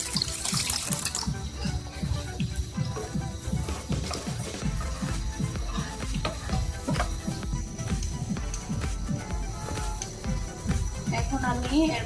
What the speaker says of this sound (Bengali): 1 কাপ পানি দিয়ে দিচ্ছি।